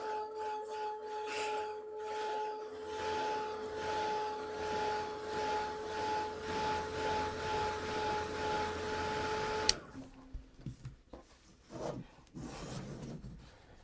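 A handheld dryer blows steadily with a droning whir and a faint tonal hum as it dries a watercolor painting of an iris, then cuts off abruptly, leaving quiet tapping and handling sounds.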